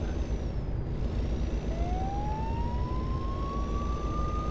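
A police siren in American Truck Simulator sounds as a single rising wail that climbs and holds, fairly faint over the steady low rumble of a truck engine.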